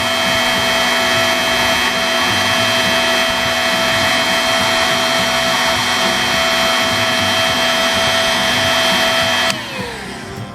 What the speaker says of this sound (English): So we'll go ahead and heat gun this